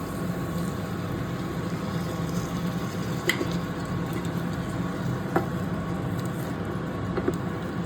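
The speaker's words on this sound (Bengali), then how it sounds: "গ্রেভি করার জন্য আমরা এর সাথে কিছুটা পরিমাণ উষ্ণ গরম জল অ্যাড করে দিচ্ছি।" Warm water poured into a Bengali-style potato and green pea curry (aloo dum) to make gravy: a steady, fairly faint wash of hiss and bubbling that carries on throughout, with a few small clicks and no talking.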